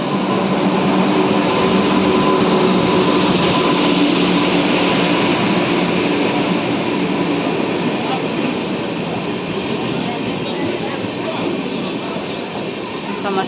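A train arrives at a railway station with a loud, continuous rumbling roar and clatter that holds steady and close throughout, slowly easing off toward the end.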